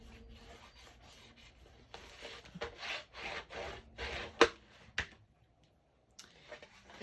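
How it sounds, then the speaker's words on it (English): Glued paper on a 6.5 by 8.5 mini album cover is rubbed down by hand in quick, close scraping strokes, uneven in rhythm, with a couple of sharp taps and brief quiet gaps. "Turn it over and burnish that glue real good."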